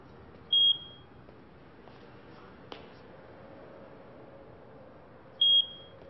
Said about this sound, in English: I had a smoke detector do that because I wouldn't change the battery.